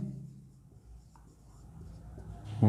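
Pen or chalk writing out a class 8 maths solution on population, making faint, close scratchy strokes over a quiet background, ending in a louder tap.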